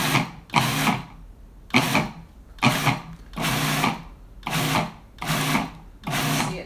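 Food processor pulsing walnut pesto in repeated motor bursts, seven loud whirring pulses each about half a second long with short gaps between, close and alone.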